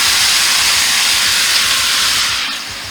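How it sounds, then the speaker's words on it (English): Leeks and onions hit hot bacon fat in a pot for Mexican potato leek soup, sending up a loud, dense, steamy hiss that holds steady and then eases off at the end. "So now we're ready to start cooking the leeks and the onions in our bacon fat."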